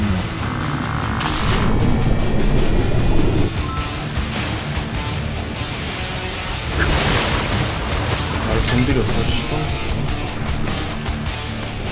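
Gunfire in the video game Atlas, dense overlapping shots and booming blasts rolling continuously for the whole stretch, loud and close, with a few metallic clinks mixed in.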